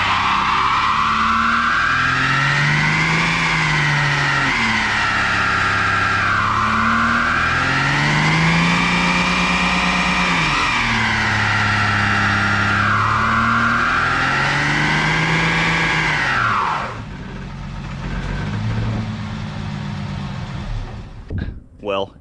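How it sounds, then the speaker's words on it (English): Drag car doing a burnout on Cooper Cobra tires, engine revving repeatedly in loud rising and falling waves with tire squeal, then cutting to lower noise with brief knocks at the end. "it in fact can do a pretty decent burnout"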